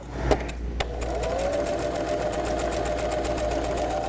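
A sewing machine in a maximum security prison workshop stitches blankets and quilts, running as a steady close mechanical whir with a faint rhythmic clatter after a couple of brief knocks at the start.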